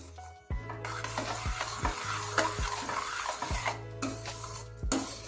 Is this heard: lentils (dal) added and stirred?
yes